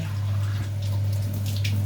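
A cup of water poured into a pot of cooking minced meat makes a steady, close rushing splash over a low hum.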